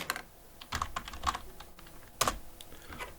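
Irregular keystrokes on a computer keyboard while entering a search for Agniveer recruitment, a few loud clacks standing out from quicker soft taps, close up with no talking.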